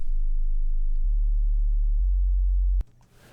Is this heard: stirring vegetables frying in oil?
no